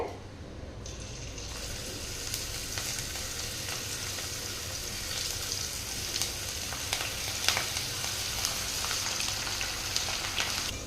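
A batch of banana flower chilli fritters fries in hot oil with a steady, close sizzle and crackle, dotted with sharper pops and bubbling that grow slightly livelier toward the end, no voices.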